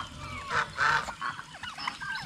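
Ducks on a farm give a few loud, close honking quacks in quick succession, followed by softer scattered calls from the flock.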